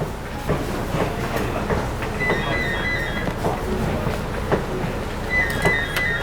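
Conveyor-belt sushi rail in a restaurant clattering steadily nearby, with rhythmic rattles, clicks and faint squeals as the plates glide past.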